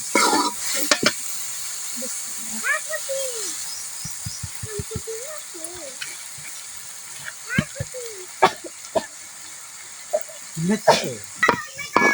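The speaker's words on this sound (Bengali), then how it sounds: "এর ভিতরে চাউল দিয়ে ভালোভাবে কষায় নিব।" Raw rice stirred and fried into cooked goat meat in a pan, with scraping stirs and a soft sizzle throughout, now and then a faint voice behind.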